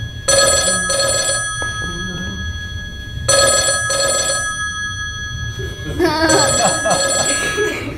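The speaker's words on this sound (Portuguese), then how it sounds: "Padre Zimmermann, a quem devo a honra da sua ligação?" A telephone bell rings in two long bursts separated by a pause, loud and close, followed by a few rattling tones as the ringing cuts off near the end.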